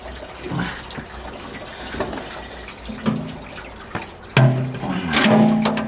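Fluid drains and splashes from a dump truck filter during maintenance, making an irregular trickle and spatter that grows louder and more gushing toward the end.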